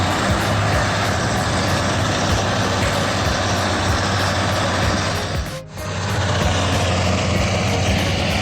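Tractor stuck in swamp mud, its engine roaring loud and steady with a deep low rumble that briefly dips near the end, with no voices.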